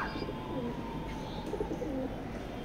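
Soft cooing of racing pigeons close by in a pigeon loft, low murmuring calls overlapping against a faint steady background hum.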